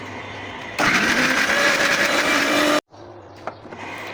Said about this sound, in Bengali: এই তো এখানে আদা রসুন পেস্ট করে নিচ্ছি ব্লেন্ডারে